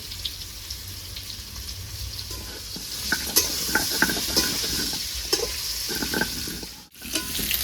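Young jackfruit pieces fry in a pan with a constant crackling sizzle, broken by occasional scraping stirs and a brief dip before it resumes.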